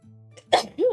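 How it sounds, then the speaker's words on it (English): A single abrupt sneeze bursts out close to the microphone, preceded by a short breath and followed by a brief vocal trailing sound. "I usually mute myself when I'm about to sneeze, but I was too late."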